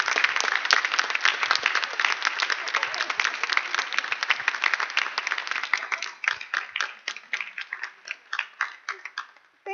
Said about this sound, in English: And another round of applause for them.